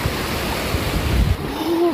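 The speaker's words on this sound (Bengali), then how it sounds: "জল মানে মারাত্মক জল আইছে এখানে" Heavy rushing water flows beside a hill route from Silchar to Haflong, a loud continuous roar with wind buffeting the microphone.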